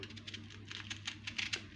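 Knife finely dicing onion on a board, a quick run of light, crisp taps in close succession, near and moderately loud, with no talking.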